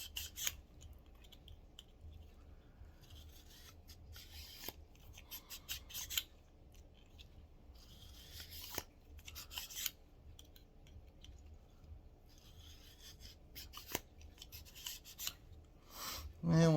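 A cleaning rod run through the barrel of a Western Six .22LR revolver, giving quiet gritty scraping strokes and occasional metallic clicks, faint and close with long soft passes.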